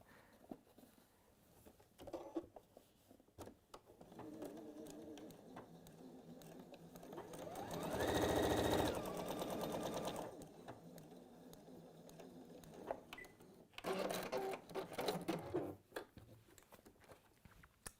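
A sewing machine stitching fabric in short bursts, with a louder sustained run in the middle and another rattling burst later, between quieter stretches of handling noise.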